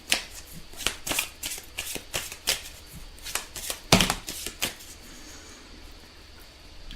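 Tarot cards are shuffled by hand before a card is drawn, with a steady run of close, crisp riffling slaps that thin out and stop near the end.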